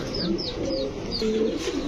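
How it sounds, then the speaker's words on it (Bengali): Large fancy pigeons at a breeding farm coo in soft, repeated throaty calls, several birds overlapping close by, with faint chirps and low background murmur. "বিশাল সাইজের কবুতর।"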